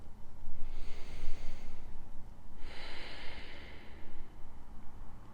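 Two slow, deep breaths are drawn during a work-from-home yoga session, each a long, airy rush of air heard close up, with a pause between them over a faint room hum.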